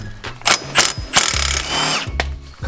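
A power tool undoes bolts while a lift kit is installed on a 2019 Jeep, with several short loud bursts of whirring and hammering impacts, including one longer run, close by.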